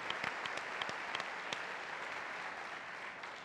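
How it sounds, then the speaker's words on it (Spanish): Faint applause from a television studio audience, a soft continuous patter of clapping with a few sharper individual claps standing out near the start. "un aplauso para Teleantioquia"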